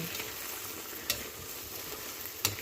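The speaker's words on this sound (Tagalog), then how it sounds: "Tapos, halo natin." Chicken and sayote sautéing in a pan, a steady close sizzle and frying crackle with two sharp clicks of a utensil stirring against the pan.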